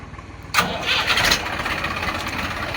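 A Massey Ferguson 1035 Maha Shakti tractor engine cranks and catches with a sudden loud start. It then settles into a rough, steady diesel idle close by.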